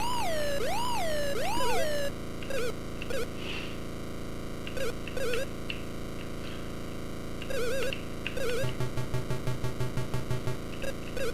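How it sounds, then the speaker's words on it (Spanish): Police car sirens in a video game wail in rising and falling sweeps, then give way to stuttering electronic yelps and repeated short warbling bursts, loud and layered, with no talk. "Mira, tres patrullas."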